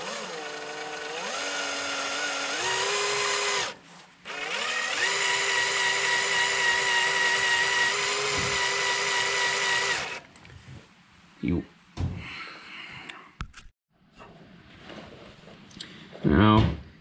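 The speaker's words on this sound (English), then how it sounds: "Now, you want to take your time drilling this hole." A power drill fitted with a size R bit bores a hole into the transmission housing of a Craftsman ZT7000 zero-turn mower. Two steady whining runs break for a moment, then give way to short clanks and handling noises.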